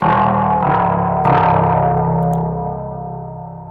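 A heavily distorted guitar pitched way down, sustaining a thick, gritty low chord that slowly fades, loud and alone.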